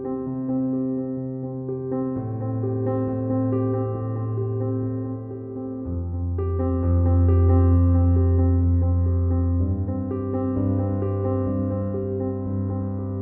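Beginner-level easy piano song played at a brisker tempo, clear single melody notes over held low bass notes in steady rhythm, close and alone with no talk.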